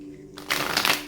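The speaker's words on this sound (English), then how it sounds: "1 more shuffle" A deck of tarot cards is shuffled once in a quick riffle, a short papery burst that rises from near silence and fades off, with a faint steady hum underneath.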